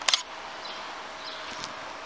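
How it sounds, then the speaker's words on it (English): A Canon 600D DSLR's shutter is pressed for a long exposure, giving a quick double mechanical click at the start followed by a faint steady hiss of background noise. "hold the shutter"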